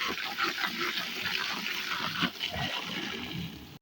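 Onion seeds are kneaded by hand in water, giving a steady wet sloshing and splashing throughout, close and fairly soft, with no talking.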